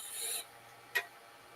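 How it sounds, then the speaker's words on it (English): A part being rounded off at the edges on a lathe gives a soft rasping scrape for a moment, then after a short pause a second brief, sharper scrape. Both are quiet. "So I'm just rounding the edges off just a little bit."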